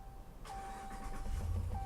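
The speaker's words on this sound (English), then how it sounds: "The doors are locked and the truck will start right up." A 2016 Ram 1500 Sport 4WD pickup starts by remote, the engine cranking and catching into a low rumble heard from outside the truck, fairly faint at a distance.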